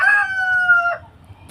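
A dual-purpose chicken, a rooster, gives a single short crow, close and clear, with faint background rumble and no talking.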